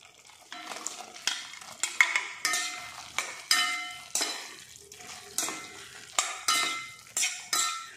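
Fried paneer is stirred into a thick gravy in a pan, with repeated scraping and clinking strokes of a spoon against the metal at a steady rhythm, close by and alone, with no voices.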